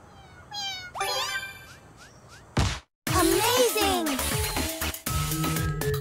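Cartoonish cat meows from the WarioWare Move It video game ring out in quick rising bursts near the start, followed by a busy mix of whooshes, hits and other lively game effects after a brief silent gap.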